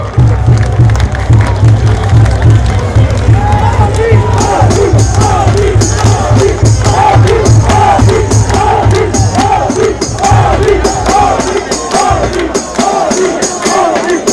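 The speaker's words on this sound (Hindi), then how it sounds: "तालियों के द्वारा मित्रों।" A large crowd at a political rally for an election victory claps and roars, a dense continuous wash of applause, cheering and shouting that stays loud for the whole stretch.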